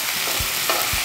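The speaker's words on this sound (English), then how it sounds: "Kailangan lang nating i-stir fry ito ng mga hanggang 2 minuto." Pork and liver stir-fry in a hot pan, a loud continuous sizzle broken by a few dull scraping thumps of the spatula tossing the meat.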